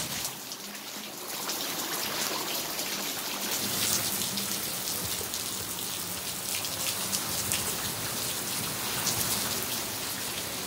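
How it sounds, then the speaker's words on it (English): Heavy rain pours down steadily, a dense, loud hiss of drops drumming on surfaces with no break throughout. "We ain't had this much rain in a long time."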